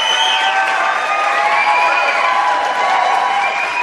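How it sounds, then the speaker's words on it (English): A school-board meeting audience cheers, shouts and claps in a steady, loud wash of crowd noise that holds for the whole few seconds, with no clear single voice standing out. "That cheer and that shout and that clapping."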